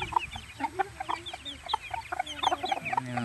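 Several chickens cluck and chatter in short, overlapping calls nearby during afternoon feeding, with faint background noise and no talking.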